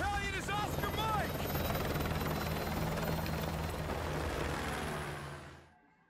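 A helicopter in Call of Duty Modern Warfare 2 roars loudly and steadily with a throbbing rotor, briefly overlapped by bursts of gunfire near the start, then fades out at the end.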